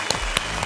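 A studio audience at a Chinese parenting talk show applauds as a mother and father guest pair are called onstage, a steady wash of clapping with a few louder bursts, close and dense.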